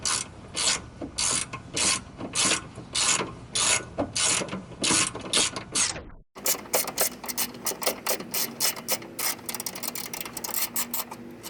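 Hand ratchet loosening 14mm top hat bolts on a Mazda Miata during a coilover install, rapid clicking strokes close up, with a brief cut partway through followed by faster continuous clicking.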